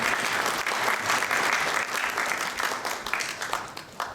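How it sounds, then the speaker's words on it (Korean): Audience applause for award recipients at a Korean architecture culture forum ceremony, a dense, even wash of many hands clapping that holds steady before tapering slightly at the end. "수상자분들께 다시 한번 큰 박수 부탁드리겠습니다"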